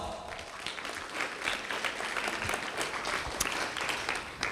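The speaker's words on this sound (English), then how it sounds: "Please give me a round of applause." Applause fills a hall at an anniversary, internship and scholarship ceremony, a steady, moderately loud round of clapping from the crowd with a few sharper claps standing out.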